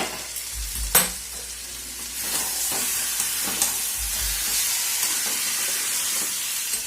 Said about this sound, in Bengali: এবার ঢাকনাটাকে তুলে একবার নেড়ে দিই।